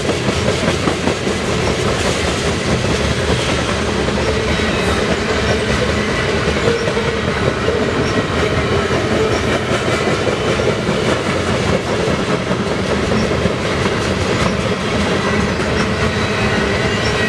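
A BNSF ES44AC locomotive, engine 6243, hauls a westbound double-stack freight train through Spokane. The rumble and clatter of passing railcars is steady, loud and close throughout, with no voices.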